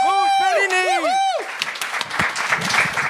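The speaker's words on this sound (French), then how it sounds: "Et on continue d'applaudir pour Mousse Fellini, tout le monde!" Audience applause at a comedy open mic show: a voice calls out over the start, then the crowd's clapping and cheers carry on as a dense, moderately loud wash for the rest of the clip.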